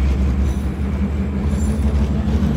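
Steady low rumble of a train running on rails, heard from inside the car, with a continuous droning roar and faint high squeal above it; no voices.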